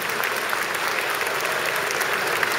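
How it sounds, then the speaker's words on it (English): An audience at the Anthrocon 2014 opening ceremonies applauds African penguins, a steady wash of many hands clapping, loud and sustained from start to finish. "Let's give our African penguins a nice big round of applause."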